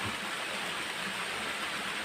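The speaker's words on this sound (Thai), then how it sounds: "น้ำตก โอ้ยมันงามครับ สวยงามมาก" Waterfall at Huai Pa Phlu in Phrao, Chiang Mai, heard as a steady, even wash of falling water that holds the same full level throughout with no break or voices.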